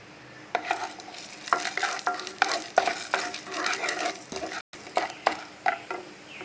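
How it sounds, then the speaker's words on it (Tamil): Chana dal roasting in a little oil in a pan, stirred with repeated scraping clicks over a steady close sizzle, with no voices. "கடலை பருப்பு பார்த்தீங்கன்னா நல்லா வறுபட்டு போச்சு"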